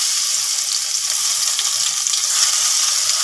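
Garlic going into hot oil where chillies have been frying, giving a steady, close, continuous sizzle with a bright hiss and no talking.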